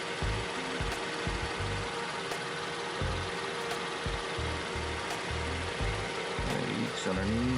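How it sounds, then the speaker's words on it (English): A 2022 Ford Transit van engine idles steadily with a low, rumbling drone that continues throughout, with some intermittent knocks and handling noise over it. "we start the car and let it run for about 10 minutes"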